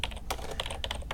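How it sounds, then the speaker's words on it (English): Rapid, uneven computer keyboard typing fills the moment, a close run of clicking keystrokes with short pauses between bursts, heard on its own without any voice. "A fair amount of typing."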